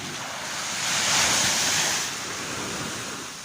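Rough surf rolls onto the shore at Timaan Beach, Baloy Long Beach, as a broad hissing wash. One wave swells and breaks in the middle, and wind buffets the microphone.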